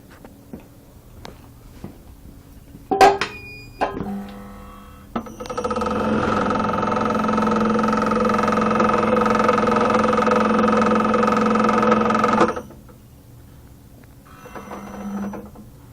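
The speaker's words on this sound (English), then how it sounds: "that's pretty much the filler machine in action." A filler machine starts up after some clicks and clunks, then runs with a loud steady mechanical whir and hum for about seven seconds before stopping, leaving quieter clatter at the end.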